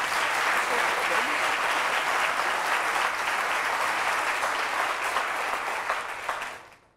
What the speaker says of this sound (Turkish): Bir alkış alalım efendim.